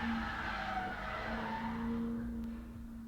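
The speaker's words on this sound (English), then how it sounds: "I just heard a car accident outside my apartment." Tires squeal in a long, loud skid from a car crash outside an apartment in the Bay Area, a sustained screeching tone that holds for seconds before fading slightly.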